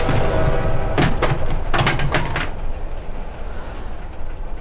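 Rumbling, clattering train passage in the horror video game Layers of Fear, loud and continuous with several sharp thumping bursts early on before settling into a steady low roar, with no talk.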